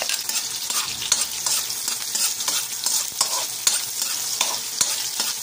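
Garlic and onion sauté in a pan, giving a bright sizzle broken by frequent quick stirring scrapes and taps in an uneven rhythm.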